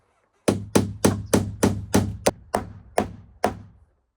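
Ten sharp hammer blows drive nails into plywood sheathing on a tiny home build in Iceland, struck in a steady rhythm close by and loud, with no talk.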